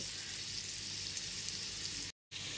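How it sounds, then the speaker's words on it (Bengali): Paneer pieces frying lightly in a pan over a low gas flame, a steady even sizzle heard up close, broken once by a brief silent gap near the end. "গ্যাসের ফ্লেমটা লোতে রেখে পনিরগুলোকে একদম হালকা করে ভেজে নেব।"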